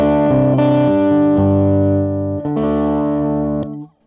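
An electric guitar plays through a tube amp with a semi-driven, boosted tone, sustained chords ringing loud and full for about four seconds before cutting off abruptly.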